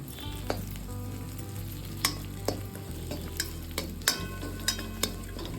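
Green chillies and curry leaves fry in hot oil in a pan with a steady close sizzle, broken by scattered sharp pops and crackles and the occasional scrape of stirring.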